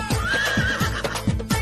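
A horse whinnies loudly and close in a movie sound effect, a long wavering neigh over rhythmic hoof clip-clops and snorting breaths.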